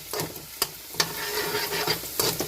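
Chopped garlic sizzles and fries in a hot pan for a Filipino mung bean dish, with steady close crackling broken by a few sharp scrapes of a spoon stirring it.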